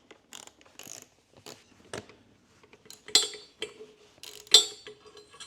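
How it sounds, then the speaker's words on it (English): A hand tool works a bolt loose from a motorcycle crash bar, sparse close metallic clicks and scrapes in short irregular bursts with quiet gaps, two sharper louder clinks near the end. "just had to take this bolt out and the top bolt from the upper crash bar"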